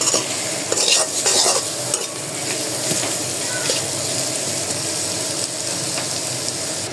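Hilsa curry with hog plum stirred and sautéed in a hot pan, producing a loud, continuous sizzle with scraping spoon strokes, heaviest in the opening seconds.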